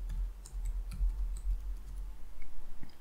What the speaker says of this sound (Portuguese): Vamos pressionar Enter.